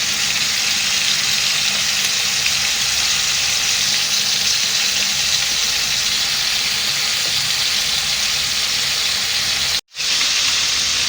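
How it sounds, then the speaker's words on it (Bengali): Salted potatoes frying in a pan give a loud, steady, unbroken sizzle and hiss throughout, with one very brief dropout near the end. "আর এখানে আলুতে ভাজা হয়ে গেছে"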